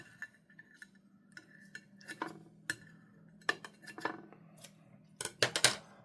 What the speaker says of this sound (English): I just cut it with scissors.